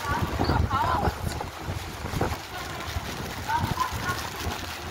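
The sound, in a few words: wind blowing by the river in Rishikesh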